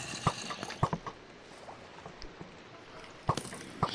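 Splashing in water in Minecraft VR, a few short sharp splashes and paddling strokes spaced irregularly over a soft watery background.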